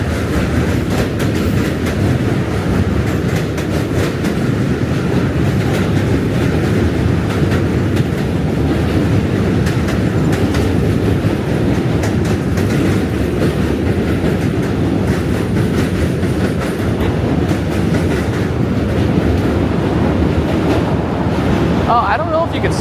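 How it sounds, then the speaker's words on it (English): A train rumbles past near a New York City bridge crossing with a narrow combined bike and pedestrian path, giving a loud, continuous roar with rattling that holds steady throughout. "There's the train."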